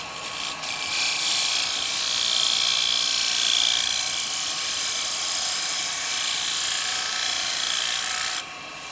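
A woodturning lathe with a gouge cutting into a block of wood being shaped into a cowboy hat, giving a steady, loud high-pitched hiss and whine that runs continuously before cutting off near the end.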